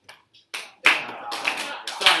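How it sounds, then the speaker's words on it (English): Jazz reading band members clapping together, a few scattered claps and then a dense burst of claps under talk and room noise, close and fairly loud. "Just clap and just go dot."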